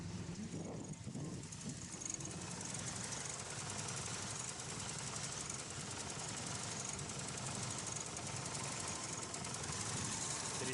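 A stalling car engine idles roughly and shakes, giving a continuous low, uneven rumble with knocking vibration that persists steadily at moderate distance, with no voices.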